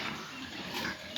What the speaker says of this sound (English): So beautiful pigs are here, male pigs, female pigs.